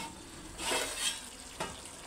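Chicken curry sizzles softly in a pan while being stirred, with a couple of brief scraping swells over a gentle background fry.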